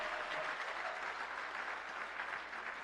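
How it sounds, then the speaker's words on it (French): Crowd applause at an evangelical campaign gathering, a continuous, even wash of many people clapping for about three seconds at moderate, fairly distant level. "On applaudit le chaudement."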